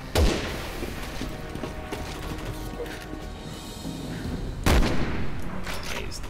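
Sniper shots ring out in a video game battle, two sharp loud cracks several seconds apart over a steady background of distant gunfire and battle noise.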